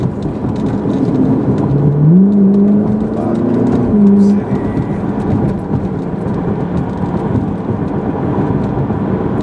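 A car speeds up onto a freeway on-ramp: loud, close engine rising in pitch through the gears over steady road and wind roar, settling into a constant drone as it merges.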